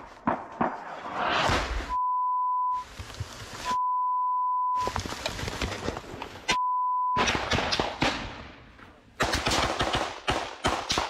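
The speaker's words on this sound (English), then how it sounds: "A lot of beeps, though. I didn't put the beeps in here." Combat footage audio with steady 1 kHz censor beeps laid over it three times, cutting between bursts of loud gunfire, blasts and noisy field sound.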